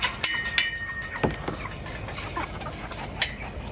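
Several named roosters cluck and call in short bursts close by, a few sharp squawks punctuating a busy outdoor farmyard background.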